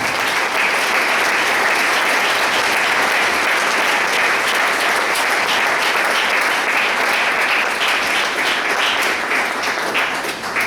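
Sustained, dense applause from a church congregation during a Sunday service, a loud, even wash of many hands clapping continuously with no pauses, filling the room for the whole stretch.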